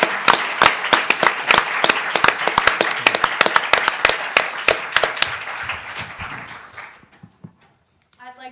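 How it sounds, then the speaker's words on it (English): Applause from the audience at a moot court competition final, loud rhythmic clapping with sharp individual claps that thins and fades out near the end. "I think they all do deserve a round of applause."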